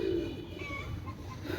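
Pigeons of a high-quality Pakistani breed coo softly and steadily, a low murmuring call that holds close and even for the whole moment with no talk over it.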